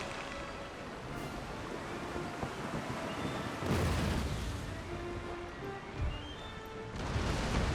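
Cannon fire in a naval battle video game set around the Netherlands, with broadband booms swelling over a continuous rumble of waves and battle noise, loudest bursts near the middle and end.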